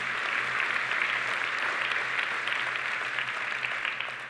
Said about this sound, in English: So a big round of applause for them again today